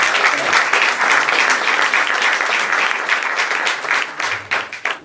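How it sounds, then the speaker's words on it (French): Sustained audience applause at an evening revue performance, loud and dense throughout, thinning slightly toward the end with a few voices beneath it. "je pense qu'on peut vraiment l'applaudir"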